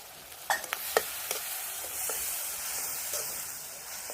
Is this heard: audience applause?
no